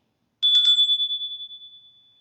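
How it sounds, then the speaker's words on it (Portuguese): A small metal bell from southern India is struck once, giving a bright, clear ring with a short clatter at the start, then a long pure tone that slowly fades with a gentle wavering shimmer, alone in silence. "E hoje eu comecei, né, a live com esse sininho aqui."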